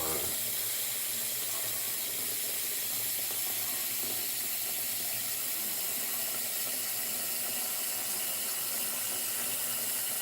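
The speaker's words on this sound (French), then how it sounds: "Casserole remplie aux 3/4. Donc, casserole de flotte." Steady running water pours from a tap into a saucepan, a continuous broad hiss that holds evenly throughout.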